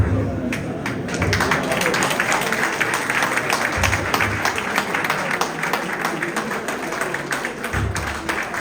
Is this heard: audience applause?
yes